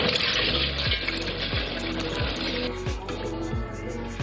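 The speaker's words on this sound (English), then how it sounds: "Fill it up with some very hot water" Hot tap water pours steadily into a pot holding egg noodles, a continuous broadband gush with gurgling that rises slightly in pitch as the pot fills.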